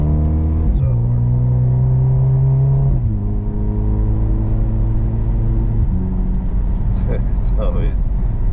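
A Mercedes SL45 accelerates hard on a race track, its engine note climbing through the gears in loud, steady harmonic sweeps with shifts, while an instructor talks over the sound.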